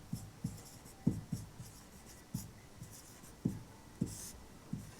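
A definition written by hand during a chemistry lesson gives soft, irregular pen or chalk strokes and taps, faint and close, with no talk over them.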